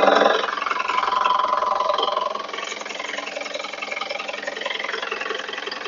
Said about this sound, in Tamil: இப்போ இன்ஜினை ஸ்டார்ட் பண்றாங்க பாருங்க